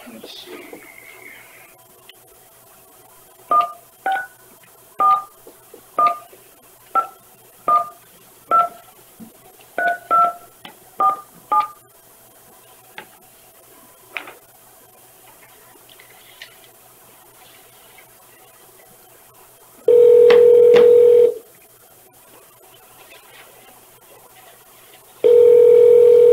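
Touch-tone dialing at a county supervisors' board meeting: a run of about a dozen evenly spaced DTMF beeps, followed by two loud bursts of steady telephone tone, with faint room noise between.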